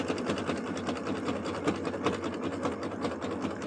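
Sewing machine stitching a round jelly roll fabric rug, its rapid needle chatter running loud and close at a steady rhythm throughout.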